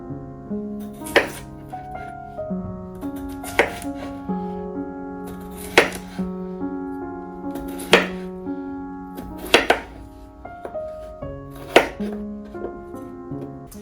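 A knife chops a scrubbed, unpeeled vegetable into chunks on a cutting board, about seven sharp, evenly spaced thunks close up over a steady tonal background.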